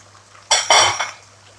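A spoon works spices through a pan for green chicken karahi, heard as two or three quick, close scrapes and clinks against the metal.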